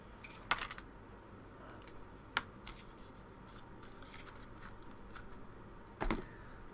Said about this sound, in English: Let's see if I can cut it off of here.